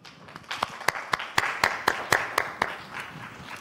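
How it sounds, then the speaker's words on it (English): Evenly paced hand claps for a speaker at a quantum computing workshop, around ten crisp claps in a steady rhythm that swell and then taper off, fairly quiet in the room. "A big round of applause."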